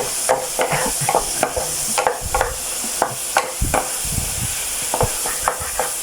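Chili and dried chili with garlic stir-fried in a pan for Thai basil duck: a steady close sizzle with repeated scraping stirs of the spatula at an uneven rhythm, no voices.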